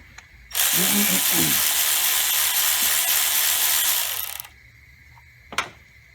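A ratchet wrench works a 10mm nut on a camshaft solenoid of a 2010 Camaro 3.6, giving a close, continuous metallic whirring of about four seconds. A single sharp click follows.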